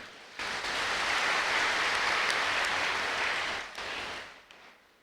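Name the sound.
audience clapping for themselves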